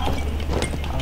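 Horse hooves from the Paladins game, a quick clip-clop of galloping steps, close and fairly loud, lasting about a second with no talk.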